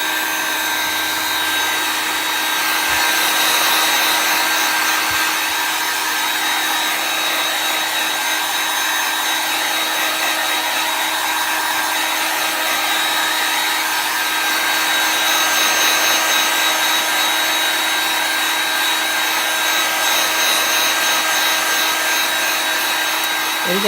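A hair dryer blows steadily over chalk paste snowflakes, a loud, close, continuous whooshing drone that runs unbroken throughout with slight swells in intensity.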